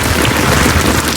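Heavy rain pours down in the Maldives, a dense, steady hiss of drops striking surfaces that stays loud and unbroken throughout, with no voices.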